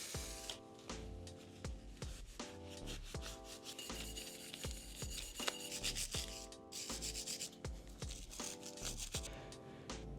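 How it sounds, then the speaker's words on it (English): A rag scrubs old oil off a Honda Grom motorcycle axle in quick, close, rhythmic rubbing strokes that continue steadily throughout. "Let's get all this old oil cleaned up off this axle."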